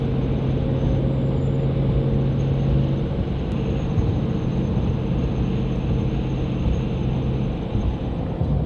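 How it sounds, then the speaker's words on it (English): A Toyota Prado SUV rolls past on the road, heard as a steady loud engine and tire rumble that holds evenly throughout, with no speech. "A Toyota Prado is about to pass"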